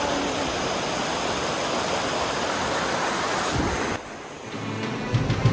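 A hidden river on the way to Bir Billing rushes loud and steady close by, a broad continuous roar of fast water. It dips briefly near the end before picking back up, with no voices.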